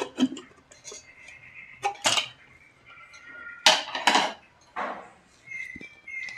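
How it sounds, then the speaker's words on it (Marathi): A pressure cooker is opened after one whistle: a few sharp metallic clanks and knocks of the lid and pot, spaced out over quiet moments, close by with no talk. "चला कुकर खोलून बघूयात।"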